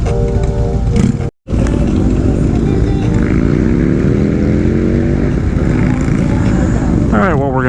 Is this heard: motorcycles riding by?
yes